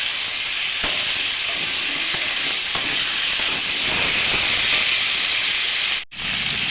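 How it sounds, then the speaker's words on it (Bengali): Ground dried chilli, cumin and ginger paste sizzles steadily in a hot pan, a continuous close, bright frying hiss with a few faint clinks from stirring, no voices. "2 মিনিট ভেজে নিয়েছে, দিয়ে দিচ্ছি কেটে রাখা টমেটো।"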